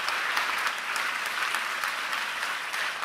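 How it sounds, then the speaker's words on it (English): An audience applauds after a lecture and question session, a dense, steady wash of clapping from many hands that holds evenly throughout without pause. "Professor David Olusoga, round of applause"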